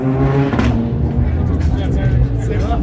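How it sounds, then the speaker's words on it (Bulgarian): A Fiat Punto C1600 rally car, class A6, at a rally event in Varna drives past with a loud, steady engine roar, revving up and down over a few seconds, while a commentator talks over it. "Машината е Fiat Punto C1600."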